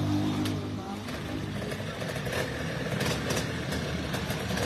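A motorcycle engine idles steadily and close by through the whole stretch, with people talking over it, before a ride at a gathering of riders preparing for a trip to Vegachí.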